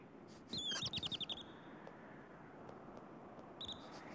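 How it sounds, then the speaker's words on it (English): A marmot gives sharp, high-pitched alarm whistles in a quick series of about eight, followed by a single shorter whistle after a pause, carrying over a faint mountain background. "Ear-splitting whistles are the marmot's first line of defense"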